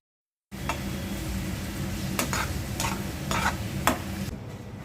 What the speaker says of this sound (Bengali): ডিম ভুনাটাও করে নিচ্ছি।